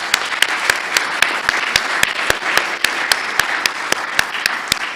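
Applause from a lecture-hall audience at a memorial lecture, steady dense clapping running the whole time with sharp individual claps standing out at regular intervals, fairly loud and close.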